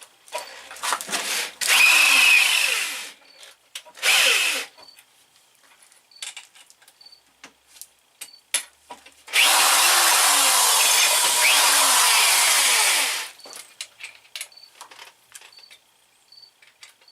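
A power drill spins an Irwin 1/8 inch bit in bursts, two short whines followed by a longer steady run of about four seconds, with clicks and handling noise between them.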